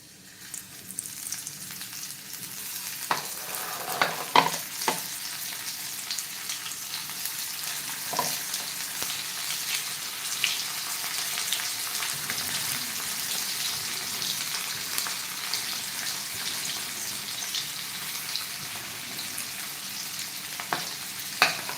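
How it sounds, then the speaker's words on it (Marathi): Flour-coated bangda mackerel fries in hot oil with a steady, dense sizzle and crackle throughout, broken by a few sharper pops and spatters, heard up close and alone. "हे फ्राय करायला सोडूया"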